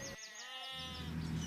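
Sheep and goats kept by desert-dwelling people bleat in a wavering, close cry that fades into a lower second call, heard alone without talk.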